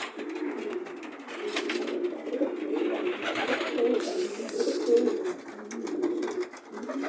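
Steady, soft cooing of many racing pigeons in a rooftop loft, a continuous low murmur lasting throughout with no voices.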